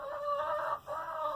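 Hens clucking inside a backyard chicken coop, a steady run of close, busy clucks and murmurs with a brief dip in the middle before the chatter picks up again.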